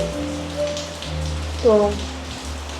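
Rain falls in the streets of Hongdae, Seoul as a soft, steady patter under a hum of ambient tones, with a brief voice speaking partway through.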